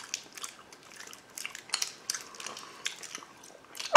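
A sour candy is bitten and crunched close to the mic, with a series of sharp crackling bites and chewing crunches spread across the moment and a louder crunch at the end.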